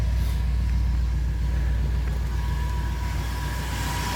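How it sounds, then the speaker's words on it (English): A 1964 Chevy with a 409 engine idles smoothly and steadily, a deep, even low rumble heard close and continuous throughout, with no talking. "Motor just sits there and runs like a brand new one."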